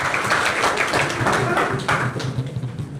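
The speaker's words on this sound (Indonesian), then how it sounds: "Kita tepuk tangan dulu dong buat semuanya" An audience at a live talk session claps together, a brisk, fairly loud patter of hand claps that thins and fades toward the end, with no speech over it.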